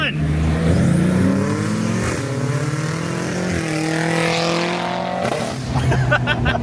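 A sports car's engine revs hard and climbs in pitch, dropping briefly at each gear shift before rising again; loud and close, with voices around it.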